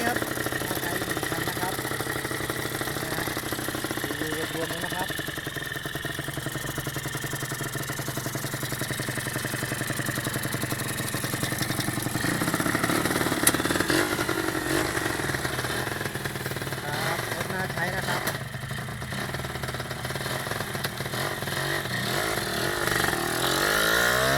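A Honda MTX125 motorcycle engine idles steadily nearby with a low, even putter and faint clatter, while someone talks over it.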